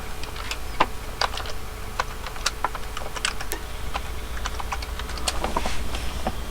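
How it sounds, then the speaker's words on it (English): Password being typed on a computer keyboard at a Linux desktop: a quick run of light, irregular key clicks over a steady low hum, fairly close and alone without talk. "double click this one, type in my password"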